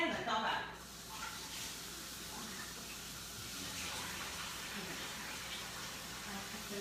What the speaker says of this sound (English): I'm gonna wash my hands and come back.